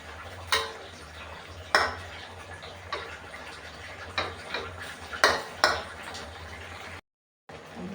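Luffa and egg being stir-fried in a pan, a spatula clanking against the metal in irregular sharp strikes over a soft low sizzle.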